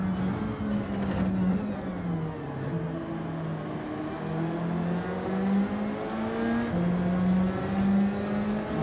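Toyota Supra engine in the Gran Turismo 7 racing game, revving and shifting through gears in a continuous race-car drone with rising and falling pitch and no talking over it.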